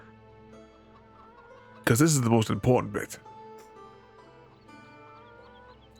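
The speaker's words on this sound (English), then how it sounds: "let's have a look at the chickens" Chickens cluck faintly in Farming Simulator 17 under steady background music, and someone talks briefly over them.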